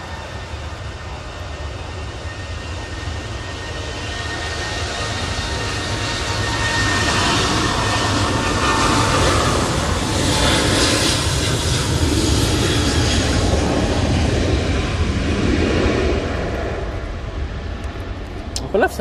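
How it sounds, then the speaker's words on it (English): Boeing 737 on its takeoff roll at Manchester Airport during a storm, bound for Palma de Mallorca: a broad, distant engine roar that swells over several seconds and holds steady, mixed with wind, with people talking faintly. "737 now on the roll off to Palma de Mallorca."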